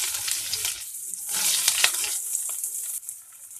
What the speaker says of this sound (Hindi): प्याज को थोड़ा भून लेंगे।